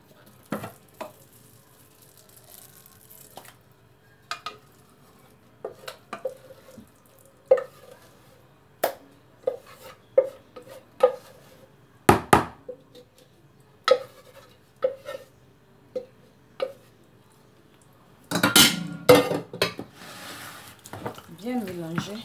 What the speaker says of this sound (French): On va procéder maintenant au mélange. On va mélanger notre lait.